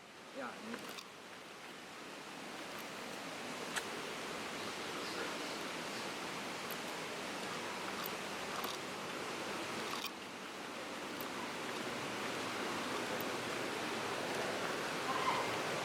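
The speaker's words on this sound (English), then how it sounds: "Guys, you can see waterfall." Palmapola Waterfall in the Sri Lankan jungle, heard as a steady, broad rush of falling water that holds at an even level throughout and swells slightly toward the end.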